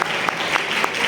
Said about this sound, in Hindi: जोर से ताली बजाकर परमेश्वर की महिमा करें।